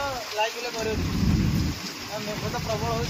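Steady rain falls with low rumbling thunder rolling underneath, close and continuous; faint voices are mixed in.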